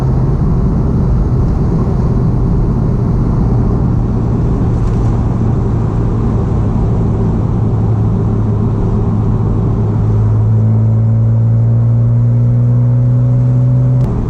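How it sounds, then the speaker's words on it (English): A Porsche 987 Boxster S exhaust drones in a loud, steady roar up close with the roof down, its engine note climbing toward the end. "With the roof down, you can really hear that top gear exhaust,"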